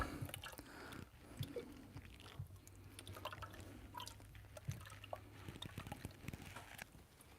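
Homemade butter is rinsed in water, giving close, continuous squishing and dripping with wet sloshes and small splashes throughout.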